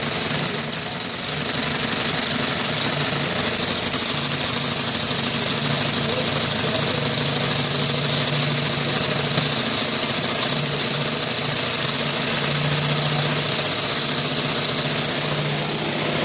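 An air motor drives a benchtop hybrid system. It gives a continuous, loud mechanical hum with a knocking, idling-engine texture and holds steady the whole time, with no voices.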